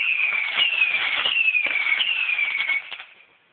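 A firework on bonfire night hisses and crackles loudly for about three seconds with a sizzling, whistling spray, then fades out.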